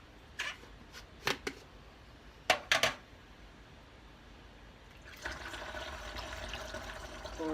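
A few sharp clinks of a bottle and funnel come first, then tie-dye solution is poured through the funnel into the bottle as a soft, steady trickle over the last couple of seconds, all quiet and close.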